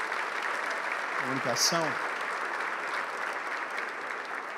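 A church congregation applauds steadily throughout, a dense sustained clapping at moderate level, while a voice speaks briefly over it near the start.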